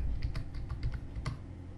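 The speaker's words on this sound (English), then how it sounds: "now let us start typing anything" Fingers tap on a physical computer keyboard, a quick irregular run of light clicks heard close up over a low room hum.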